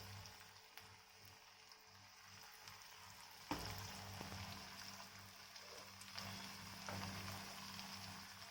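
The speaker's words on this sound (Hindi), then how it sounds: "ऑयल हमारा गर्म हो चुका है। हमें इसके अंदर पनीर डाल देना है।" Paneer fries in hot oil over a medium flame, a continuous soft sizzle and crackle with occasional sharper pops, quiet and steady throughout with no talking.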